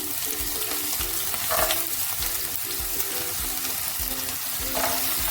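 Onions frying in a pan, crackling and hissing at a steady close level, with a faint repeating tonal pattern underneath and a couple of louder stir bursts.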